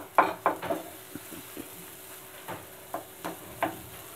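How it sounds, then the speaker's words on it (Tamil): Ladle stirring elephant foot yam masala frying in oil in a pan; a series of soft scraping strokes, about eight, spaced irregularly, quiet and close, with no voices. "எண்ணெய் பிரிய வர கிண்டிக்கிட்டே இருக்கணும்."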